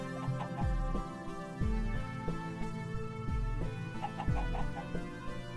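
A pet chicken in a block-building game clucks in short repeated bursts over a steady musical background at moderate level, with no talk.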